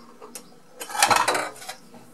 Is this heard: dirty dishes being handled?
yes